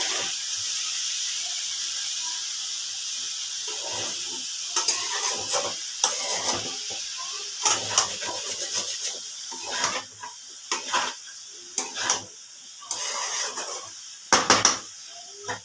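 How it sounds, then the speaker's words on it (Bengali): Potatoes and onions frying in a pan with a little salt, a soft continuous sizzle broken by repeated scraping stirs, close and steady with no talking. "আলু আর পেঁয়াজটাকে একসাথে ভাজতে হবে"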